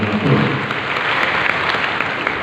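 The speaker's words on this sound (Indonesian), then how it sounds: "Tepuk tangan yang paling tinggi." Sustained applause from a church congregation at a sermon celebrating Chinese New Year, a steady dense wash of clapping that fills the whole stretch without pause.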